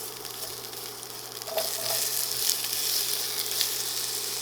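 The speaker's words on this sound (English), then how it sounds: "I'm going to go ahead and add my 5 cloves of garlic. Start sauteing those," Five cloves of garlic and chopped white onion sauté in olive oil, giving a steady close sizzle that swells slightly partway through, with a few faint stirring clicks and no talking.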